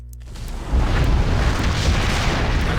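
A building demolition explosion in the video game SimCity 4 sets off a deep, loud boom that swells into a sustained low rumble and keeps rolling without fading.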